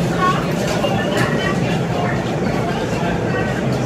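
A brand-new Staten Island Railway R211S local train running between stations, a steady rumbling roll with wheel and car noise throughout, fairly loud and even, with some faint voice-like sounds over it.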